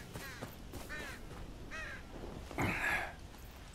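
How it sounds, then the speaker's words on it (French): Crows caw three or four times at moderate distance in the Game of Thrones Kingsroad game, with short harsh calls spaced about a second apart over a low ambient bed, then a brief louder noisy burst. "Généralement, quand on entend des corbeaux, ça veut dire ça."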